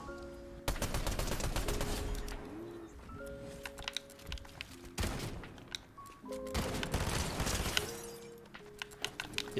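Rapid bursts of automatic gunfire sound in the Fortnite video game, with dense sharp shots and impact crackles over a few seconds, set against constant keyboard and mouse clicking, with no talking.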